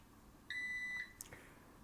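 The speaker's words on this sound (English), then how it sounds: "It'll beep a couple times, and then it'll start counting down." An electric pressure cooker used for pulled pork sounds one clear, steady electronic beep lasting about half a second, then falls quiet apart from a faint short click.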